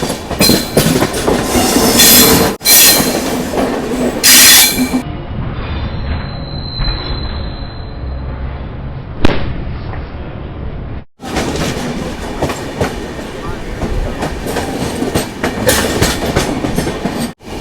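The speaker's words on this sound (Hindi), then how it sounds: "ट्रेन आ रही है।" The Secunderabad Bhubaneswar Express pulls into Brahmapur station platform, loud and close, with rumbling wheels, rhythmic clatter and metallic squeal, a quieter stretch midway, then heavy rolling again.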